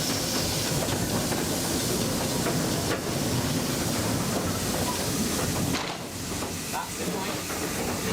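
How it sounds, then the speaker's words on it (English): Heard from the footplate of a narrow gauge steam locomotive at a heritage railway, steam hisses and the engine rumbles steadily as it pushes through a set of points and reverses back onto its train. "Then we'll push through this point and reverse back onto the train."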